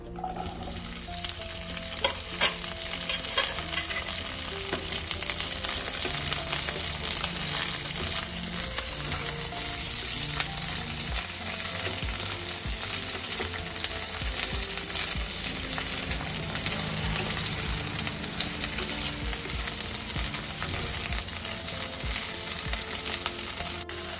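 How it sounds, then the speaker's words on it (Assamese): Okra sizzling and frying steadily in a hot pan with cumin seeds, a continuous loud crackle with occasional clinks of a utensil stirring, no voices. "এইবাৰ ভেন্দিখিনি আমি ফ্ৰাই কৰি ল'ম।"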